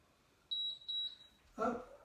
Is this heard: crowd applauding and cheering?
no